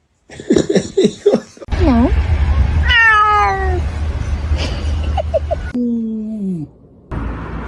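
A kitten meows loudly and repeatedly, close up, with short chirps and longer drawn-out cries, while a person talks and laughs between them.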